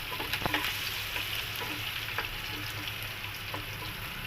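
Onion frying in a pan for a dal, rice and potato sabji dish, a steady broadband sizzle with scattered small pops and stirring clicks, fairly close and continuous with no talking.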